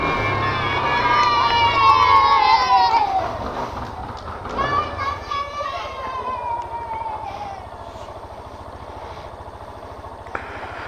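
A group of children shouts and cheers together in a loud rising burst, then calls out again more briefly, with excited voices fading toward the end.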